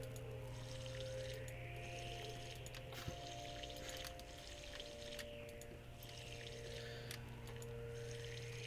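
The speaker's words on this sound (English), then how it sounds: "So we water the crops" Water pours steadily onto garden crops outdoors, a continuous soft splashing and trickling with a low steady hum underneath and no talk.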